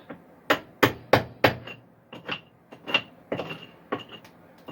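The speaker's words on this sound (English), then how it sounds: "They're short, hard hits, so you don't hurt yourself when you're swinging." A hammer strikes in short, hard hits, about a dozen sharp knocks in an uneven rhythm, close and clear with quiet gaps between blows.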